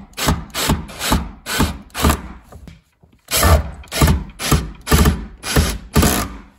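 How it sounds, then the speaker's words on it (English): A driver or ratcheting tool fastens an anti-tip bracket to the back of a wooden television stand, giving a steady run of rhythmic ratchet-like bursts, a short pause, then more of the same, close and loud. "Now I'm securing the second bracket to the television stand."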